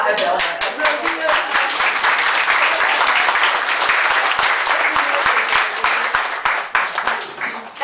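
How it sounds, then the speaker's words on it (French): A crowd at an exhibition opening in Robelmont claps steadily and loudly, dense, sustained applause with individual hand claps standing out throughout. "Eh bien, on va applaudir."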